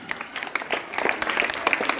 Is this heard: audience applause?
yes